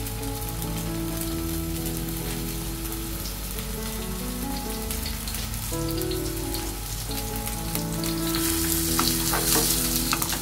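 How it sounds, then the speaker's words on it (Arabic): A burger patty fries in a pan over medium heat, giving a steady, dense sizzle and crackle that continues throughout with no talking. "هسه حبايبي بنضيف البرجر بالشكل هذا"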